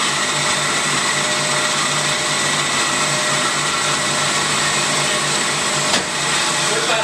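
An Amada HA 250 bandsaw cuts a 3.5 inch metal piece at its fastest speed, making a steady, loud machine whir. It drones unbroken for the whole stretch, with a brief shift near the end.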